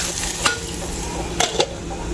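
A chunky mixture goes into hot oil with a soft sizzle and faint frying hiss, broken by a few brief clinks and stirs of a utensil against the pan, with no talking.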